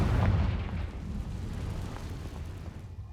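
A Confringo blasting spell explodes in Hogwarts Legacy, a deep rumbling boom that peaks at the start and then decays into a long, steady roar of debris and echo.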